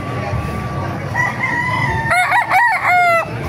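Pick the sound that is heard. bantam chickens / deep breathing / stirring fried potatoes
bantam chickens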